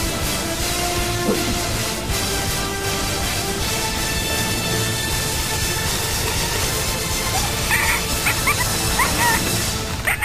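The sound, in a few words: wild domestic dog barking and whimpering during rescue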